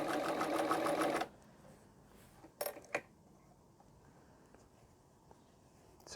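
A Singer 248 sewing machine stitching close up at a 4 millimeter stitch length: a fast, even mechanical whirr for about a second, then stopping, followed by a few faint clicks in a quiet room.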